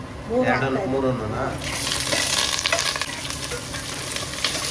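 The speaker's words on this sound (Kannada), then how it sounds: "ಬೆಳ್ಳುಳ್ಳಿ ಅವಲೇ ಕುಟಾಣಿಯಲ್ಲಿ ಜಜ್ಕೊಂಡಿದ್ರಲ್ಲ ಅದು ಹಾಕಿ ಸ್ವಲ್ಪ ಚೆನ್ನಾಗಿ ಫ್ರೈ ಮಾಡಬೇಕು." Garlic, onion, dried chillies and curry leaves frying in a pan, a steady sizzle with stirring scrapes that swells louder after a moment, with a voice talking over the start.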